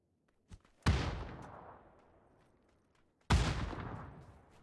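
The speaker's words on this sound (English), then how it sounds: "Clean shots from the M4." Two loud M4 rifle shots in PUBG on the snowy Vikendi map, each a sharp crack with a long fading echo, a few seconds apart and preceded by a faint distant pop.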